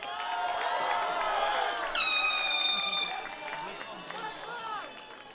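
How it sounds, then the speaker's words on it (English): A loud, sustained air horn blast cuts in over a cheering crowd at a college commencement ceremony, holding steady for about a second before fading back into the applause. "Somebody take away that air horn."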